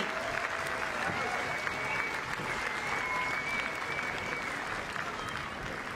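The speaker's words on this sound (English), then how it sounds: "Can you give him a round of applause as he leaves the court?" A tennis crowd applauds steadily and loudly as a player leaves the court, the dense clapping sustained throughout with a faint murmur beneath.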